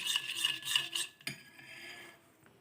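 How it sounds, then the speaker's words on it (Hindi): A spoon stirs a mixture of sugar syrup (chaashni) and dissolved gelatin for homemade jelly, a steady scraping and rubbing against the pot, with one sharper knock partway through and softer swirling after. "इसको आपने बहुत मिक्स करना है"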